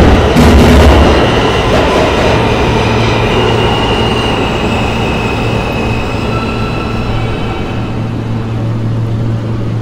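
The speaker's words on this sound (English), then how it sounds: "This is a broad channel-bound shuttle train." An R160 subway shuttle train bound for Broad Channel runs loudly and steadily, a continuous rumble of wheels and motor hum with a sustained tonal whine, heard alone from inside the car.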